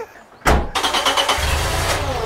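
Peugeot 205 engine starting in a garage: a short starter crank bursts into a loud catch, then the motor settles into a rough, throbbing idle close by, with no talk over it.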